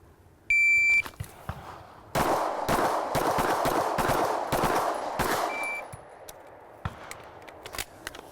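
A shooting round on a range starts with a shot-timer beep: a short, sharp electronic tone, then a rapid string of loud gunshots cracking in quick succession, followed by a few scattered later shots.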